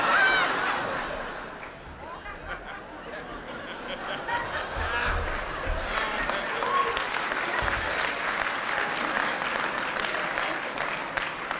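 An audience at a 1996 Martin Luther King commemoration claps in a long, sustained wash of applause, briefly dipping and then swelling again, with scattered voices and light laughter mixed in.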